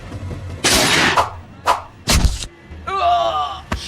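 Film gunfire as police take aim and shoot: several loud, sharp blasts and thuds in quick succession, mixed with a groan and other soundtrack noise.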